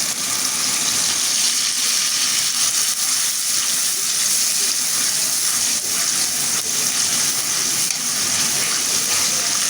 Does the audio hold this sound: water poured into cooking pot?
yes